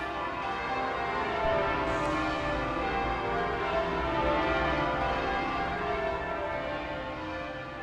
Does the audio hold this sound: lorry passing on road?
no